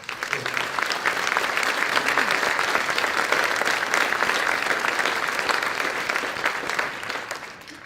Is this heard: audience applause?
yes